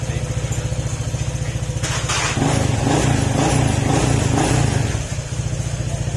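A Honda ADV150 motorcycle engine, freshly overhauled after running dry of oil, idles with a steady, rapid chugging, briefly revving higher and louder mid-clip before settling back to idle, close by.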